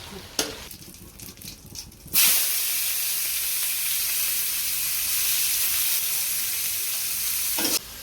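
Meat and onions dropped into a hot pan burst into a loud, steady sizzle that holds for several seconds, after a short stretch of quieter stirring and scraping.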